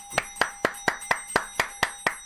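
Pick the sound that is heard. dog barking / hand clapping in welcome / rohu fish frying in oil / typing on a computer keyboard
hand clapping in welcome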